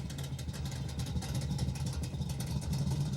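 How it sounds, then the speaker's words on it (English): A car engine from the movie Running on Empty revs in a continuous, fairly loud, steady rumble with rough low-end pulsing throughout, no voices over it. "they put some emphasis on the sound of the cars"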